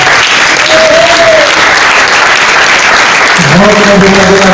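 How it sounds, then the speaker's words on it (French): An audience applauds loudly and continuously for a theatre actor, a dense steady wash of clapping that fills the whole stretch, with a voice heard over it. "Est-ce qu'on peut vraiment applaudir pour Rocco Bokabe la Rojo, s'il vous plaît?"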